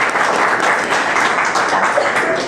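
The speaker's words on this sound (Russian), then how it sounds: "давайте им похлопаем" Audience applause at the opening of a Kaizen centre in Almaty, a dense, steady wash of many hands clapping at close range, sustained evenly throughout without any voices rising above it.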